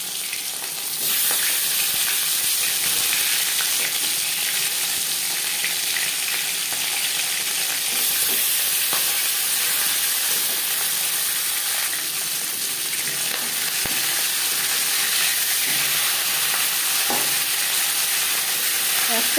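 A marinated fish head sizzles and crackles in hot refined oil, a loud, steady frying hiss with scattered pops and small stirring sounds, close up and without talk.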